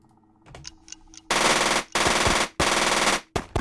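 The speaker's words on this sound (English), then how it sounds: "All right, Trazian will get a burst fire." Burst-fire gunshots from the tactical video game UFO Aftermath: a few quiet shots, then three loud sustained automatic bursts and a short final volley, close and harsh.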